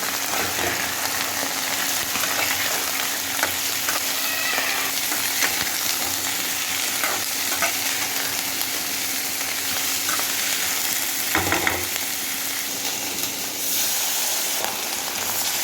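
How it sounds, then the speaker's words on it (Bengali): Chopped onion, pointed gourd and potatoes fry in oil in a wok with a loud, dense, rain-like sizzle throughout, punctuated by occasional stirring scrapes and one brief clatter. "এর সঙ্গে দিয়ে দেবো পটল আর আলুগুলো দিয়ে ভেজে নেবো একসঙ্গে"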